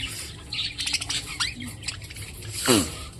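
Pied budgerigars squawk and chirp in quick, scratchy bursts, with one louder squawk near the end and faint background noise.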